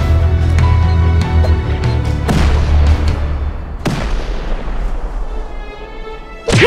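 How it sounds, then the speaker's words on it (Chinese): C4 charges blasting a turret during a base raid in a video game, with loud booming detonations around two, four and six and a half seconds over a constant rumbling din of game noise. "那口 C4 的范围爆炸伤害可以炸掉吗？"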